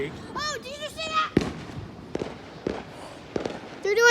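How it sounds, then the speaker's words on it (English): Distant Fourth of July fireworks going off outdoors, a handful of separate booms and crackling pops spread across a few seconds, with people talking and reacting close by. "They're doing some sick fireworks back there."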